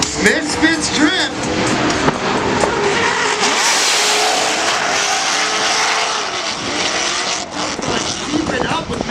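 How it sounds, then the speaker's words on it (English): Drift car in a drift competition, sliding through a corner with loud continuous engine roar and tire squeal lasting throughout, while a commentator talks over it. "holding Drift through the whole corner, having to straighten a bit there"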